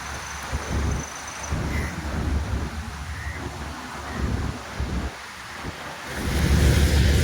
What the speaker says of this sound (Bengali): আর কি সুন্দর ঢেউ হচ্ছে